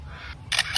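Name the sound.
lyrebird mimicking camera shutter clicks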